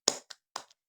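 A class of students standing in a classroom performs a short rhythmic spirit clap, three quick, crisp claps close by in a tight pattern, then silence.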